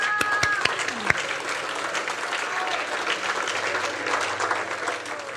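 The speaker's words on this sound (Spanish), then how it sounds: "¿Quieres darle aplauso al Señor?" Church congregation applauding for the Lord during a Spanish-language sermon, a steady wash of clapping from a crowd with a few sharper claps standing out near the start.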